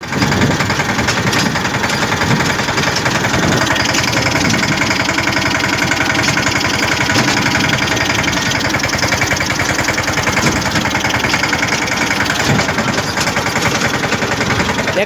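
A tractor engine idles in a loud, continuous, rough chugging rumble, steady throughout with a rattling mechanical texture and no voices.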